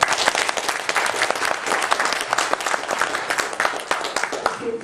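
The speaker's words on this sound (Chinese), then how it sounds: "下面我们就以非常热烈的掌声欢迎安格尔教授发表演讲" Warm, sustained audience applause welcoming Professor Unger to give a lecture, dense and steady for the full stretch with no voices over it.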